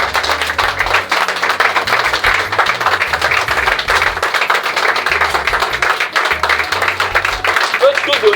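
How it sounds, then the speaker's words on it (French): A church congregation claps and cheers in praise of the Lord, with steady, dense applause and crowd noise running throughout while voices call out over it. "Acclamons fortement pour le Seigneur. Acclamons fortement."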